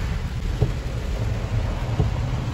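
Heavy rain pours down in a steady, dense outdoor wash, with a few low thumps and rumbles now and then and no voices.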